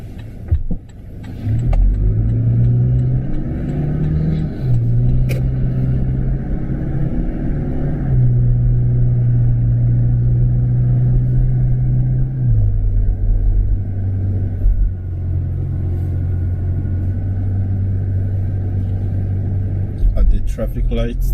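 A car drives on a road and turns left at a junction during a mock driving test, with its engine rumbling steadily and the pitch shifting as it changes gear. A voice talks over it throughout.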